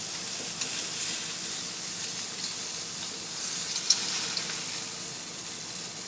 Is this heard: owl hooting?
no